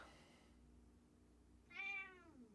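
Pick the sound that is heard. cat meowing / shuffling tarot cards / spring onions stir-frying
cat meowing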